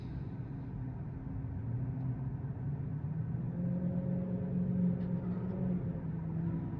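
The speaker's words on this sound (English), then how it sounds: "That Corvette sounds good." A Corvette engine rumbles at a steady, fairly distant level, its low growl rising in pitch as it accelerates.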